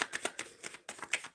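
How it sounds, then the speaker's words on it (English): A tarot card deck being shuffled at close range, with quick papery riffles and slaps in rhythmic bursts, a brief pause midway, then more shuffling, and no voices. "I have been shuffling for a moment now, and I'm not getting anything."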